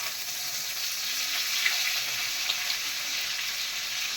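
Curry leaves fry in hot oil for a tomato chutney, making a steady, even sizzle that holds unbroken throughout with no voices over it.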